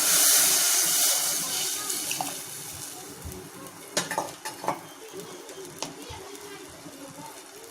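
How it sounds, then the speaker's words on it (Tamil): Water is poured into a clay pot of fish curry over sautéed onion and tomato with tamarind. It rushes loudly at first, then eases into softer splashing, stirring and a few clinks, with voices speaking over parts of it. "தேவையான அளவுக்கு தண்ணி."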